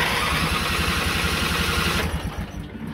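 A used quad ATV engine cranks over with a rapid, rhythmic chugging from the starter for about two seconds, then drops off abruptly, close and loud with no one talking.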